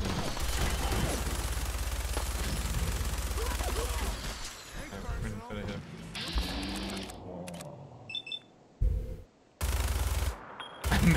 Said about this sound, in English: I just sit here and hold down the minigun